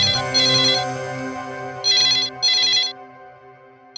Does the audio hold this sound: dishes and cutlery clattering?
no